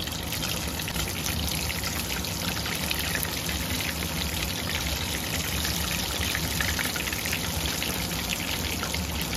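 Cheese balls frying in hot oil over a high flame, a dense, steady sizzle and crackle that holds evenly throughout at close range with no talk.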